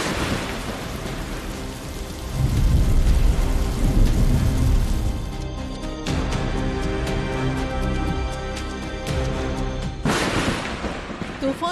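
A heavy storm with driving rain, thunder and strong wind batters crop fields in a steady, loud roar, with a deep rumbling surge early on and a sudden gust-like burst near the end.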